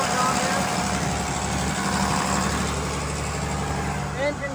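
A farm equipment engine idles steadily with no load after a new hose was fitted, a continuous low rumble that stays even and near throughout, with a voice heard briefly over it.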